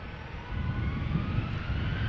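A Transavia Boeing 737-800 departs Amsterdam Schiphol on a flight to Naples, its jet engines giving a steady, loud roar and broad rumble with faint tonal whine throughout.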